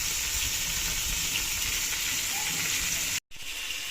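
Marinated meat for biryani frying in a pan, a steady close hiss of sizzling oil that runs evenly before cutting out abruptly near the end, followed by quieter background.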